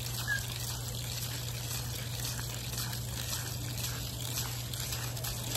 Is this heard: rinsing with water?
yes